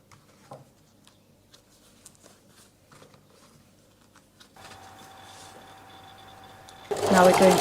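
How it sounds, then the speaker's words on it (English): A sewing machine stitches the shoulder seams of a classic coat, running steadily and humming near the end after quieter handling taps and rustles of fabric earlier. "Now we're going to sew this,"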